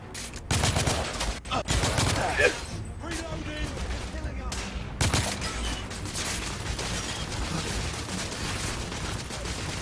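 Gunfire in a shootout in the video game The Order: 1886, dense bursts of rapid shots and volleys with mechanical clatter, loud and close, continuing steadily, with some voices talking over it.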